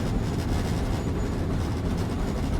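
Train sound effect with a steady, loud rumble of rail travel, carrying continuous low roar and faint rhythmic clatter throughout.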